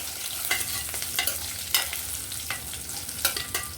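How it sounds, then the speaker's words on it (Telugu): Cashew nuts fry in a pan while a spatula scrapes and stirs, giving a steady sizzle broken by sharp strokes at irregular intervals, close and moderately loud, with no talking. "జీడిపప్పు కూడా వేసి బాగా ఫ్రై చేసుకోవాలి"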